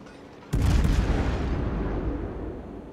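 A naval gun salvo from a warship game, the Venezia cruiser firing, opens with one sudden loud boom whose heavy low rumble rolls on and slowly fades, with no voices.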